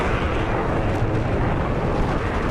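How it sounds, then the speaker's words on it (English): A Vulcan cannon fires in a naval combat game pitting an Iranian gunboat swarm against a US carrier group, a steady, dense roar of continuous fire holding loud and unbroken throughout, with no voices over it. "Someone's using their Vulcan cannon."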